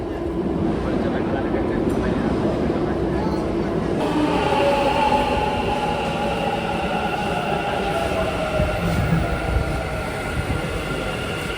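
A Bangalore metro train runs with a steady, loud rumble and whine throughout, its pitch shifting partway as it moves, with faint voices in the background.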